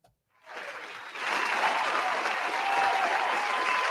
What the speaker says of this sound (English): I don't even know if my sound worked, but she needed a round of applause